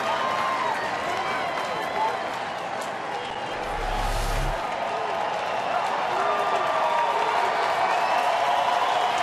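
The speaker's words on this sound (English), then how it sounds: "Here comes the crowd now." A crowd of nearly 40,000 at a night baseball game cheers and claps in a steady, far-off roar, with a brief low thump midway and a commentator talking over it.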